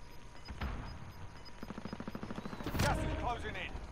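Gunfire in Call of Duty Modern Warfare, a rapid burst of automatic shots followed by a heavier booming blast, moderately loud, with a voice talking over the action.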